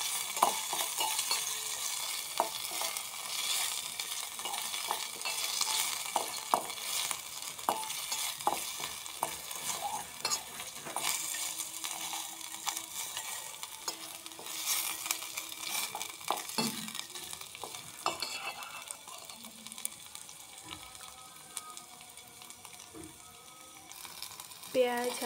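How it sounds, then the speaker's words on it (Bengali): Onions fry with bay leaf and cinnamon in a pan, a continuous soft sizzle with frequent scraping and stirring clatter throughout, fairly close and moderate in level. "পেঁয়াজগুলো বাদামি কালার করে ভেজে নেব।"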